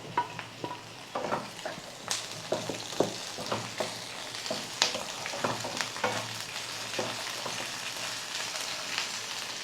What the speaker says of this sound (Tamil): இப்போ நம்ம கட் பண்ணி வச்சுருக்கிற வெண்டைக்காயை சேர்க்குறோம்.